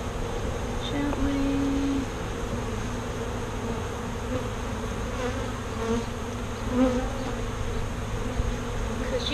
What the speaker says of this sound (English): getting the bees off of the frames and then into this tote